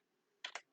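Two quick keystrokes on a computer keyboard, close and crisp, land in a short burst as Java code is typed, with a faint third click at the end.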